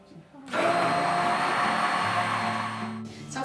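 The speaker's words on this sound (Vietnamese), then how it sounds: "Mình sẽ dùng một máy xay cầm tay để xay ngay trong cốc." A handheld stick blender runs in a cup, pureeing oats with water, a loud steady whirring drone that starts abruptly after a brief quiet moment and holds for about two and a half seconds before cutting off.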